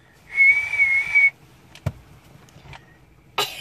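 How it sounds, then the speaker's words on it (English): A young girl whistles one loud, steady, high note for about a second, followed by a few short clicks and thumps in an otherwise quiet room. "Do your loudest whistle you can."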